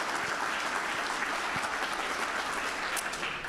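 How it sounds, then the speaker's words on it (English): Steady applause from an audience, a dense even patter of clapping hands lasting a few seconds. "round of applause for our judges."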